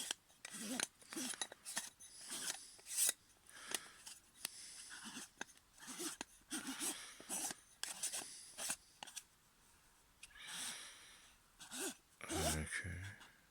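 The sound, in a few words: metal front cover being screwed onto an OpticStar telescope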